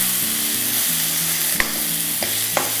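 Onions frying in tempering oil for a Karnataka-style upma, a steady close sizzle with a few stirring clinks and scrapes throughout, no voices.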